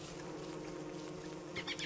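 Steady buzzing of a swarm of bees in the game Don't Starve Together, a continuous insect drone that holds throughout with a slight swell near the end, alone without talk.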